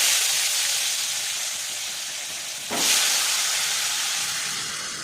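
Potatoes dropped into hot oil with a little turmeric in a karai, a steady sizzle that jumps into a louder burst of frying partway through, close and without speech.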